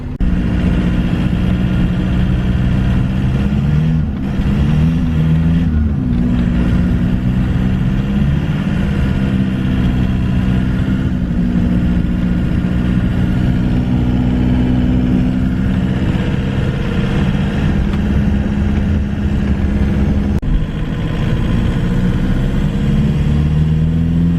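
A 1991 Toyota pickup with a swapped-in TDI diesel engine drones steadily while driving, with a low engine hum and slight rises in pitch as it accelerates, loud and continuous throughout.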